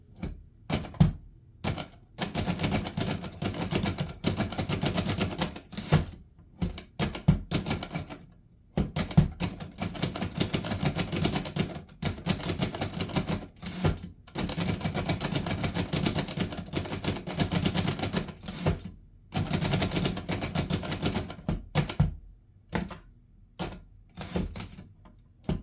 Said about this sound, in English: You see how this is a pretty quiet when you hear the kind of thump versus the regular typewriter clack